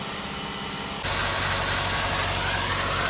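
Kia Seltos diesel engine running with the engine cover open during DPF regeneration, a steady broadband hum that jumps sharply louder after the first second and then holds constant, close by with no talk.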